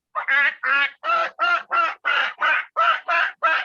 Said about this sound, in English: sound was just the sounds of the geese making their noises under the water